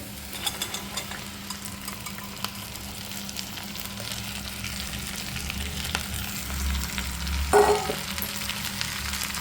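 Okra fries with sautéed onions in a pan, giving a continuous close sizzle with a faint crackle, a brief clatter near the end, and no talk.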